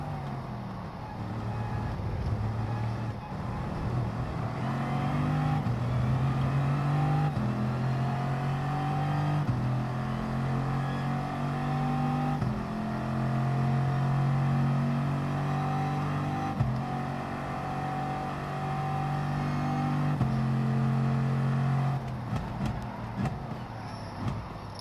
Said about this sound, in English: One make races, all in the Veyron.